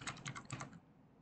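Quick burst of computer keyboard typing, several close keystrokes in a brisk run that stops after under a second, with no voices.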